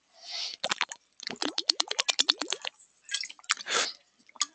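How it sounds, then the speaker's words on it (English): A person drinking water at a desk: close, wet gulping and swallowing sounds come in a quick run of clicks and squishes, with short pauses between sips. "I'm drinking water at my desk."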